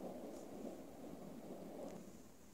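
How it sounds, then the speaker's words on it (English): Thunder rolls during a storm outside, a continuous low rumble with a wash of rain, steady and fairly distant throughout. "Yeah, it is storming a little bit out there."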